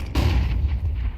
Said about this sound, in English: Flashbang goes up towards catwalk.